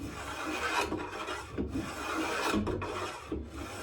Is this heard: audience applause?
no